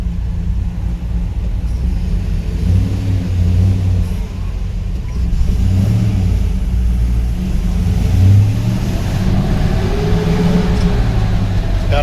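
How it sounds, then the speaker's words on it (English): Old 1987 K20 Suburban with a 5.3 LS engine and mechanical cooling fan pulls through the gears, a steady loud low engine rumble rising and falling with each acceleration, fan roar blended in, no talk. "Gotta love that mechanical fan."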